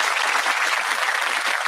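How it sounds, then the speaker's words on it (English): A television studio audience on a comedy panel show breaks into brief, dense applause, a short burst of clapping heard on its own. "That applause must be a welcome sound."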